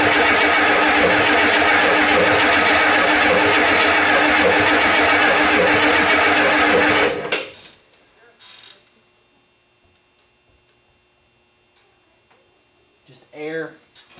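A 1989 Ford 7.3 IDI diesel engine cranks loudly and steadily for about seven seconds, then cuts off abruptly, leaving near silence with a few faint clicks and a brief distant rustle near the end.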